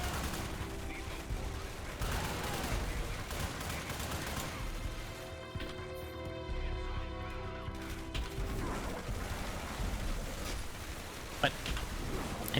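Rifle gunfire in Dark Sector, rapid bursts of loud shots in clusters separated by a brief lull, with crashing impacts mixed through the firefight.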